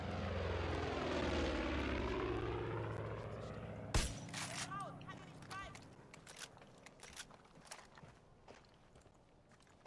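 Propeller aircraft engine droning overhead in the video game Far Cry 5, a steady low hum swelling and fading over the first seconds before sharp game sounds and footsteps take over.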